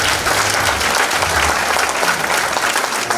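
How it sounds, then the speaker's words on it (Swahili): A church congregation at a New Year overnight service in Kisii claps loudly and continuously, a close, full burst of applause that fills the room. "karibu tumpigie makofi"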